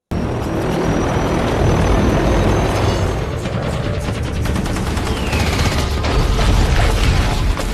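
Loud, constant helicopter rotor roar mixed with bursts of gunfire and booms fills a war film battle scene where a chopper takes enemy fire, dense and continuous from start to finish.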